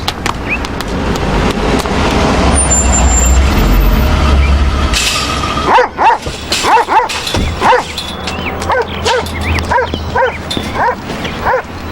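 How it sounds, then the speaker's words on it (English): A small dog or puppy gives a few yips and short barks in a domestic scene, heard over a loud low rumble and background noise, with the barks coming in quick bursts toward the end. "Daddy, a puppy."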